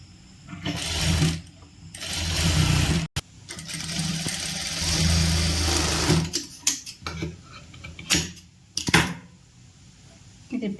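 Sewing machine stitching a churidar, running in several bursts of steady whirring separated by short pauses, close up, with talking heard between and over the runs.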